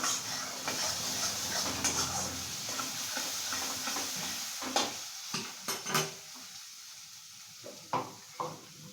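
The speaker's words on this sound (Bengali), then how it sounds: "মশলাটা তো ভালো করে কষাও হচ্ছে কারণ তেল রিলিজ করছে" Spice masala for a coconut egg curry fries in oil as it is stirred, giving a steady close sizzle broken by several sharp scrapes and knocks of the spoon against the pan.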